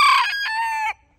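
A rooster crows once, close and loud, a short bright call lasting about a second before cutting off into quiet.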